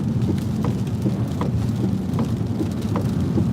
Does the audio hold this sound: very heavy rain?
yes